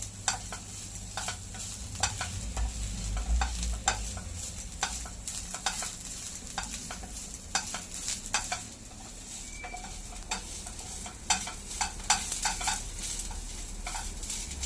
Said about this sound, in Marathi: मस्त मेथीचा खमंग सुवास सुटलाय मिनिटभर आपल्याला ही परतून घ्यायची आहे